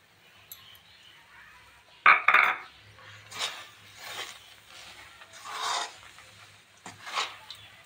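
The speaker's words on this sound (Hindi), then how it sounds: "भलो भाबे आमे गुड़ सहित चाउल चूनाटा मिक्स करनवा।" Rice flour being stirred together with jaggery in a pot for ghee pitha, with soft scraping and rubbing strokes and a sharper clink of the spoon near the start, repeating in slow uneven passes.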